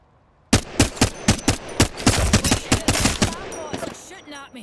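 Gunfire in the game Apex Legends: a rapid automatic burst of about a dozen close, punchy shots in steady rhythm, fading into a denser mix and quieter ambient clatter.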